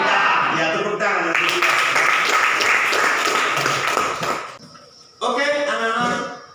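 A classroom of schoolchildren applauds together in a sustained burst of clapping, which dies away briefly before a second round of clapping starts up.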